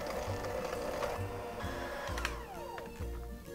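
An electric stand mixer beating orange cake batter with flour, a steady close mechanical whirr with rhythmic rattling, running briefly at moderate volume.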